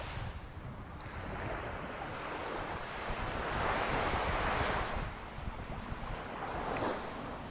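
Calm Atlantic Ocean surf washes onto a beach in steady, broad swells that rise and ease, with light wind buffeting the microphone throughout.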